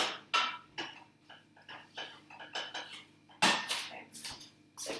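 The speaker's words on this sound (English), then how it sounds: "I'm breaking the meat up as I stir it so it doesn't cook or clump together" Ground meat for lasagne broken up and stirred in a pan, heard as a run of irregular scraping, clattering utensil strokes against cookware, close and moderately loud with brief pauses between strokes.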